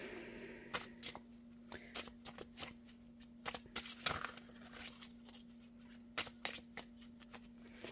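Playing cards handled and shuffled for a poker game at home, a run of crisp riffling clicks and snaps in irregular bursts, close and fairly quiet over a steady low hum.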